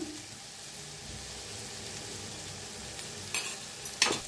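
Ground masala of red chili powder and coriander powder roasts in a pan for a potato curry, giving a steady, soft sizzle. Near the end come a couple of sharp scraping clinks from the spoon against the pan.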